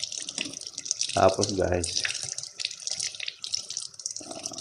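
Water runs steadily from a tap during washing, a continuous splashing hiss near the mic with a person talking briefly over it.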